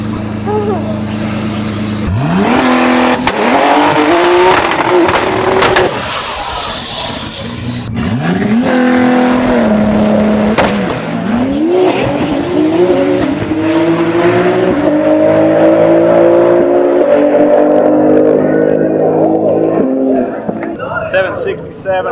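Nissan GT-R race cars competing on a track, loud engines revving and shifting through gears with pitch sweeps, constant close roar throughout, with faint voices underneath.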